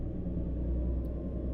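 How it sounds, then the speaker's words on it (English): Steady low rumble of a heavy-haul truck engine in the American Truck Simulator game, pulling about 88,500 pounds, droning continuously and evenly with no voices. "Engine has a nice rumbly sound to it."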